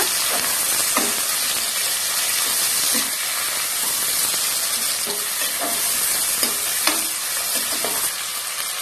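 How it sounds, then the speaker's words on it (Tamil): Chopped large onions sauté in a hot pan for vegetable biryani, giving a steady close sizzle with intermittent scraping stirs and clinks throughout. "அடுத்தது 3 பெரிய வெங்காயம் கட் பண்ணி வச்சிருக்கோம். அதையும் கூட சேர்த்திடலாம். எல்லாத்தையும் நல்லா வதக்கி விட்டுருங்க."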